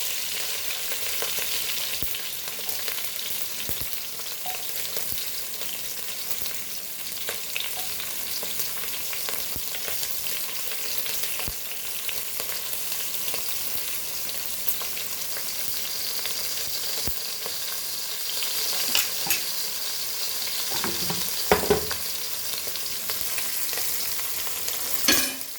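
Curry leaves, garlic and chili frying in hot oil with asafoetida for Goan cabbage, a steady loud sizzle with occasional stirring scrapes and spatters, no talking.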